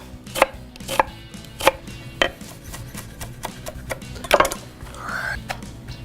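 A knife chops half a red onion finely on a cutting board: sharp, spaced cuts come in an irregular rhythm. The chopping is close and fairly loud, with no talk over it.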